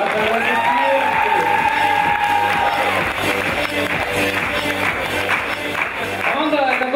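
A KVN comedy league audience applauds a team being introduced, a sustained crowd clapping with some cheering, and a voice speaking over it in places.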